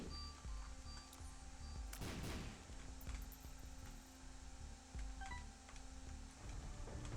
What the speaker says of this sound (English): Oh, we destroyed that machine.